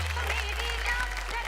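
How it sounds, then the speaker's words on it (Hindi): Audience applause for a dance performance on a televised dance show, a dense steady wash of clapping and crowd noise, brief and fairly loud. "जोरदार तालियां"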